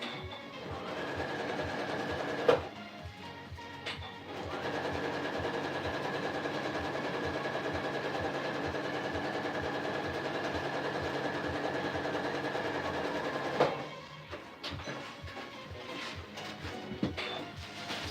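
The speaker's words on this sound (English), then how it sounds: "I'm sewing 2 seams real fast, just as an experiment." Sewing machine running steadily for long stretches while stitching seams in a clear storage bag, with a brief burst early on and short clatter and handling sounds at the end; fairly close and even, no talking.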